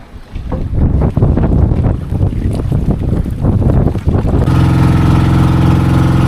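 A boat engine drones loudly through a sea ride off Dingalan, Aurora, with heavy wind buffeting the microphone and water rushing, ending in a steady mechanical roar with no talking.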